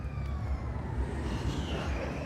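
Race cars at a Tokyo racing circuit roar past in a steady, loud engine drone with a high whining tone, continuous and fairly close, with no talking.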